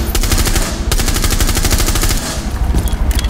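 Rapid automatic gunfire in the video game Rainbow Six Siege, loud close bursts of fast shots that run almost without a break and stop briefly near the end.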